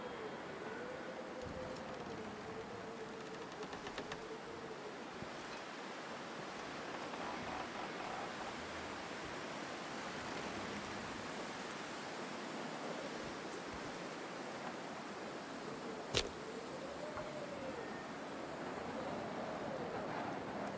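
Steady broadband rush of flowing water in a video game, continuous and even throughout like a stream or waterfall, with a brief sharp click partway through and no speech.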